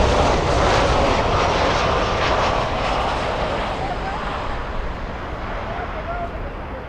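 Lufthansa airliner from Munich on final approach into Miami International, engines roaring loud and close, then fading slowly as it passes, with a person talking over it.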